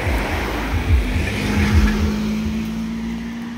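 A car passes on a winding mountain ghat road at Tamhini Ghat, its engine a steady nearby drone with a rising tonal whine and low rumbling bursts, loud and continuous without talk.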